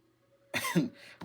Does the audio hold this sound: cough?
yes